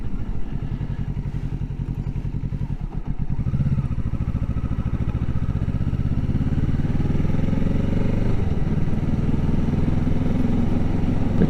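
A motorcycle engine runs close by while it is ridden through the gears, with thumps as gears change and a pitch that drops and then climbs again, steady and loud.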